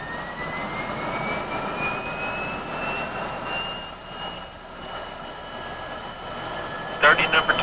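A T-38 Talon's number two jet engine spooling up at start, a steady whine with a slowly rising tone over broad roar, continuous and moderately loud, with a clattering burst near the end.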